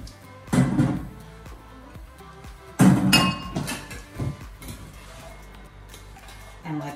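Ratatouille vegetables, including cubed eggplant, are stirred in a pan with a spatula, producing scraping, clinking bursts and sizzling clatter at uneven intervals, close by.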